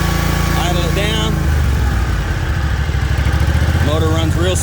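A Hustler Fastrak commercial zero-turn lawn mower engine drops to idle, its close mechanical thrum continuing steadily, with a few short squeaky sounds over it.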